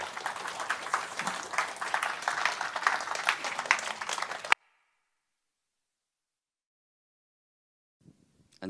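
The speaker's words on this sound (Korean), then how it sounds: "여러분 나오셔서 박수로 환영 감사하겠습니다" A church congregation claps at a Sunday service to welcome a speaker, with a steady burst of applause lasting about four seconds that then cuts off abruptly into silence before faint sounds return.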